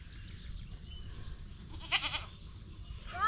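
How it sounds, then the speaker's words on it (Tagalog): A goat bleats once in a short, wavering cry on a farm, faint against a steady outdoor background hum. "Nasaan ang kambing?"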